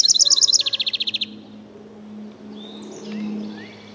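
A series of sharp, rapid bird chirps from a brown thrasher rings out loud and close for about a second, then fades to quieter distant calls over a low background hum.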